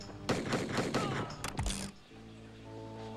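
Rapid gunfire from the Wild West arcade shooter Lethal Enforcers 2, a dense burst of loud cracking shots followed by a heavy thud, then a sustained game tone underneath.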